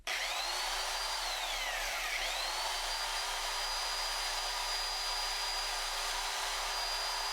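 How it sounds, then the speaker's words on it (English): An old power drill runs on an Ecoflow River 2 Pro power station, a steady close motor whine that rises in pitch as it spins up, dips briefly, then holds constant to the end. "Next tool from a bygone age, drill."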